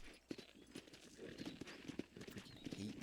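Horse hooves clip-clop in a steady rhythm in the Red Dead Redemption video game, faint and mixed with dense background game noise.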